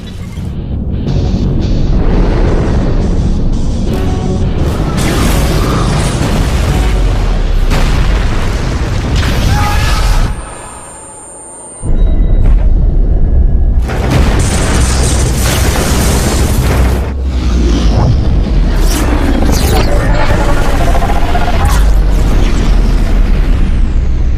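Starship weapons fire and explosions in a sci-fi action movie: loud sustained booming blasts and rumbling detonations, briefly dropping to a lull before another heavy barrage of explosions.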